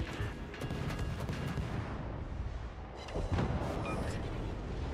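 Warship guns boom and rumble in the naval video game World of Warships, a dense, loud barrage of overlapping deep blasts and rolling roar filling the whole stretch with no talking.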